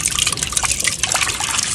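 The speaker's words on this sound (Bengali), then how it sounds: "জলটা ছপক ছপক করে দাও" Water splashes and sloshes in a steady, close wash of liquid noise, with small drips and trickles over about two seconds and no talking.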